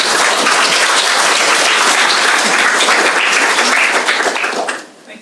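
An audience applauds after a talk at an academic panel on disciplinary and sectoral boundaries. The clapping is loud and sustained, then quickly dies away in the final half second.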